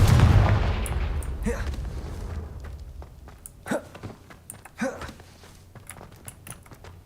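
Confringo explosive curse in Hogwarts Legacy, a loud booming blast at the start that decays into rumbling debris, followed by scattered thumps and crackles.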